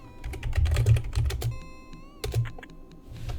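Rapid clattering keystrokes on a computer keyboard come in quick bursts with brief pauses, close and clear, during play of the EGA computer game Quest for Glory II.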